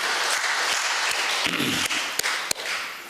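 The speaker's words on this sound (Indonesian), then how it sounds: "Sekali lagi tepuk tangan dari bawah" A church congregation applauds during a sermon, dense continuous clapping from a large crowd with a few sharper individual claps standing out, filling the room without speech.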